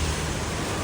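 Rough sea surf on a Thai coast churns in a dense, steady roar with strong wind buffeting, a brief continuous wash of noise.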